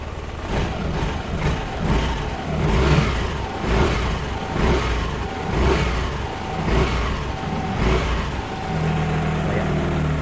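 A Yamaha Aerox scooter with an error 1 and overheat fault starts and revs in repeated rising and falling surges, close and fairly loud, with voices talking over it.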